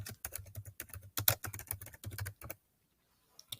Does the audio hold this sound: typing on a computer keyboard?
yes